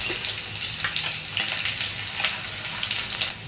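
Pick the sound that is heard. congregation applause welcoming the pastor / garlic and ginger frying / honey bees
garlic and ginger frying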